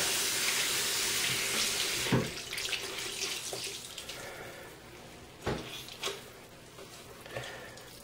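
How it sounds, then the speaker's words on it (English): Warm tap water runs steadily into a sink while a washcloth is rinsed during a post-surgery dressing change, with a few brief splashes and clunks of handling over the continuous flow. "We'll rinse the washcloth."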